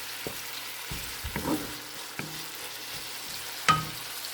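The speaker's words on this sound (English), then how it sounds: "So maybe it will take 1 minute in sauteing." Crimini mushrooms sautéing in a pan, with a faint background sizzle broken by scattered soft stirring scrapes and a sharper clack near the end.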